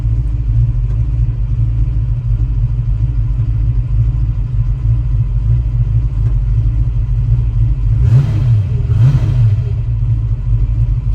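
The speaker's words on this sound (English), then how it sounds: "Still cold. That was a cold start." A 1966 Shelby GT350 V8 with a four-speed idles after a cold start, a loud steady low rumble throughout with two short blips of throttle near the end.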